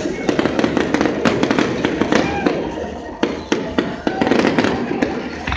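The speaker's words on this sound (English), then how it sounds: "The fireworks been going on like 30 minutes already." Independence Day fireworks over uptown Charlotte, North Carolina, crackle and boom in rapid irregular bursts, some sharp and close, layered over a constant rumble of distant explosions and crowd noise.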